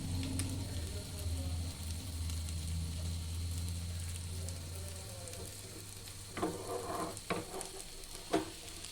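Egg sizzling and frying steadily in a hot pan for an omelet, a soft continuous crackle with a few louder stirring clicks and scrapes toward the end.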